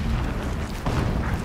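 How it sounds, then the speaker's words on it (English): Explosions boom in the distance in the video game Horizon Zero Dawn, a dense continuous rumble of low blasts swelling again near the end, with no talk over it. "Explosions in the distance."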